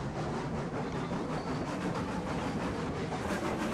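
A train runs in a video game, a continuous rolling rumble with faint rhythmic rattling that stays level and fairly close throughout, with no voices over it.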